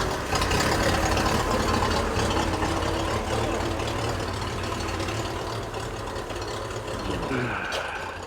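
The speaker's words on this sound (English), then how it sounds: "Absolutely love running tractors indoors." A Ferguson tractor engine runs indoors with a loud, steady, rough idle and a heavy low rumble that holds throughout, slightly easing toward the end.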